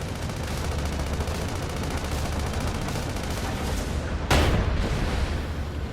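Gunfire in the Sand Land video game, a steady stream of rapid shots with rumbling battle noise throughout and a sharper, louder blast near the end.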